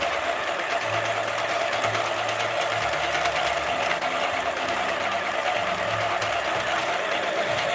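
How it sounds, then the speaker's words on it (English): Yarn feeding steadily through a knitting machine while a beanie is made, a continuous whirring and rattling hum that stays even and fairly loud throughout with no talk. "When my yarn is going through the machine like this, I like to hold it in my hand so that if there's a knot, I will catch it"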